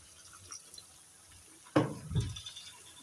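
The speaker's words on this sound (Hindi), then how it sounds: "मसालों के साथ थोड़ा सा पानी ऐड करेंगे" A small splash of water is poured onto spices in a cooking pan, a brief burst followed by a short sizzling, bubbling rush at close range, with no talking.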